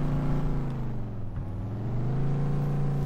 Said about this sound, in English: I do love the way this truck sounds.